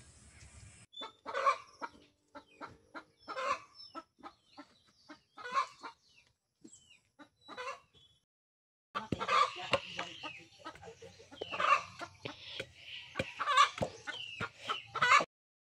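Chickens cluck in a repeating, uneven rhythm inside a chicken coop, close by and fairly loud, with a short pause before a busier burst of clucking.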